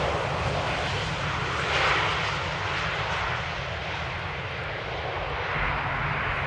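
A jet airliner arriving at Amsterdam Airport on a rainy day roars steadily with a broad, rumbling engine wash that swells slightly and then holds, heard from a spotting position with no talk.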